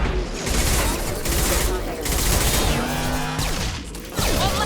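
Gunfire in a Mass Effect 2 firefight, rapid bursts of shots and impacts packed densely across the whole stretch, loud and close, with voices mixed in.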